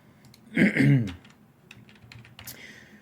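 Computer keyboard typing during 3D modeling work: a short burst of talk, then a few light, scattered key clicks, faint and close.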